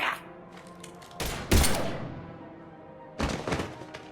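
Gunfire in Mass Effect 3, a few sharp heavy bursts with thudding impacts separated by short quiet gaps, loud against a low background.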